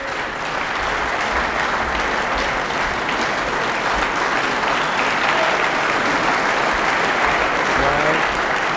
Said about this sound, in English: a very generous round of applause there